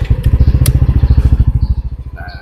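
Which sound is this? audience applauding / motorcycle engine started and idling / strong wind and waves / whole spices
motorcycle engine started and idling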